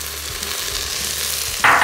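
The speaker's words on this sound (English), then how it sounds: "And now we're going to saute our veggies. So we add the onion." Onion sautés in extra virgin olive oil in a Philips Premium All-in-One cooker, giving a soft, steady sizzle that swells suddenly into a louder burst near the end.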